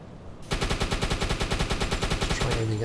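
A submarine deck gun in the video game UBOAT fires a fast, evenly spaced string of loud, close shots that starts abruptly after a quiet moment and keeps a steady mechanical rhythm before cutting out.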